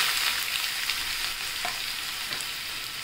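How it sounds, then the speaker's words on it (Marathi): Chopped onion sizzles in hot oil with cumin seeds while cooking a radish-leaf vegetable dish, a steady bright crackle close to the pan, with occasional faint stirring scrapes. "कांदा आपण चांगला परतून घ्यायचा"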